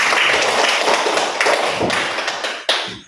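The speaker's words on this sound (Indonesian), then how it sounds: "Berikan aplaus dulu untuk semuanya." Students in a classroom applaud, producing a dense burst of many hands clapping close by that fades toward the end, with one final louder clap, and no talking.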